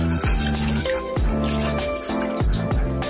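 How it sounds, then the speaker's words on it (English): Water poured over rock salt, with a trickling pour and several distinct splashing, rattling impacts at roughly regular intervals, close and fairly loud, with a faint tonal hum in the background. "We have rock salt, and I'll pour water."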